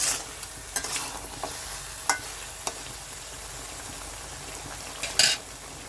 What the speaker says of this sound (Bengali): কুমড়োটা দেওয়ার পরেও আবার একটু নাড়াচাড়া করে কষিয়ে নিচ্ছি